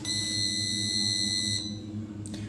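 A piezo buzzer on a breadboard circuit sounds when its switch is pressed, giving a steady, shrill electronic tone that holds for over a second and then drops away.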